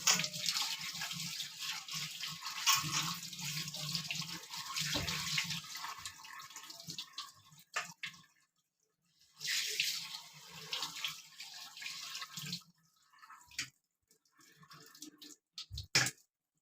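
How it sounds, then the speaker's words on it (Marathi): Flattened rice (poha) rinsed under a running kitchen tap for kanda poha: a close, steady splash of water that stops near the middle, resumes briefly, then returns in short bursts, with no talking. "तर मी नळाखाली ना हे धुवून घेते."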